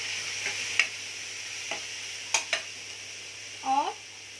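Spice masala with tomatoes fries in a pan for aloo puri, with a soft hiss and a few sharp utensil clinks and scrapes against the pan, and a brief voice near the end.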